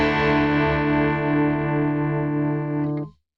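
A stereo panner effect on a Fractal Audio Axe FX III set to a reduced depth, heard as a sustained, distorted electric guitar chord with a faint, gentle oscillation in level. It holds steady for about three seconds before cutting off abruptly.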